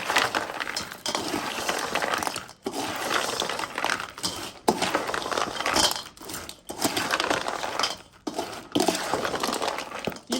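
Pieces of Fiji-style lakri mithai, a fried sweet, are tossed and mixed with syrup, giving a steady close-up crunching, clinking rattle with brief pauses and no talk.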